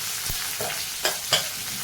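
Ajwain seeds stirred into hot oil in a pan for Punjabi kadhi: a steady loud sizzle with a couple of brief scraping knocks from the spoon, close and alone.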